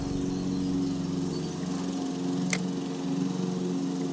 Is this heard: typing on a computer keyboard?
no